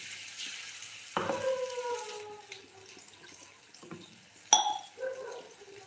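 Spice paste for Vidarbha-style besan vadi drops into hot oil with a sudden sizzle that fades to a soft, steady crackle, followed by a sharp clink and a few smaller bursts of frying, all fairly quiet.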